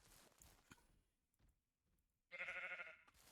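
A single sheep bleat from the farming video game Ranch Simulator comes loud and clear near the end, after a stretch of quiet soft clicks.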